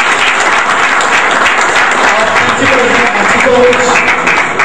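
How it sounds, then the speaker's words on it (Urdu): An audience at an education event in Punjab bursts into loud, sustained applause, dense clapping that fills the whole stretch with a few voices mixed in. "آپ کی بھرپور تالیوں میں"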